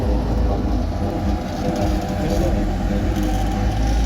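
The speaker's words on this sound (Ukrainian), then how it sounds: "А біля нас трамвайчик їде з 80-х." Tram rolling along a city street in Ternopil, a steady loud rumble of wheels and motor filling the whole stretch, with voices talking over it.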